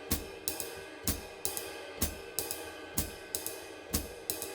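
A jazz drummer plays a swing pattern on a ride cymbal with the skip note too loud, giving steady bright metallic strikes in an even lilting rhythm with the offbeat hits standing out, played alone and fairly quiet.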